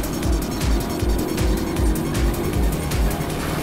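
A car speeding along in a chase scene from the 2019 Hindi-dubbed film Team 5, with a loud, steady engine roar that pulses in a rhythmic throb and no talking over it.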